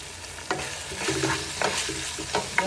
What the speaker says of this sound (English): just mix everything together